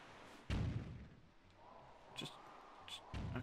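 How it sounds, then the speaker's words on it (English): Cannons fire in The Legend of Zelda: The Wind Waker HD at the Forsaken Fortress, two booming blasts about three seconds apart with softer game effects and thuds between, moderately loud. "Okay, yeah, cannons. If you start firing at me, it's going to be real laggy."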